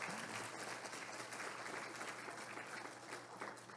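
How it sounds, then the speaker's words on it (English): Sustained applause from a crowd at a community gathering for a newly named board president, steady clapping over a faint background hum, fairly distant and quiet. "give her a round of applause"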